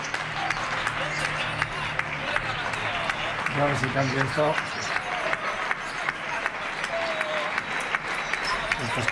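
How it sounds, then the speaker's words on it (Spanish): Neighbours clap from the balconies around an interior residential courtyard, a dense and steady applause that carries through the whole stretch, with a nearby voice speaking over it. "Mira, los vecinos también aplauden."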